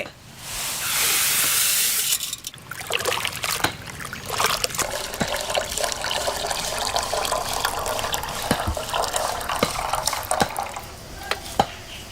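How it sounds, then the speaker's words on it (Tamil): Water is poured from a tap or vessel to soak split moong dal and toor dal for a village-style mutton bone soup, starting with a loud steady gush and then continuing as a long splashing trickle with clinks. "பருப்பு ஊற வைக்க தண்ணி"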